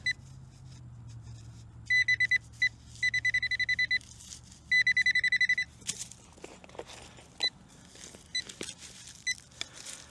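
Metal detector in a park giving a sharp, high signal tone at a 37 reading: several bursts of rapid, shrill electronic beeping, followed by scattered scraping and digging clicks outdoors.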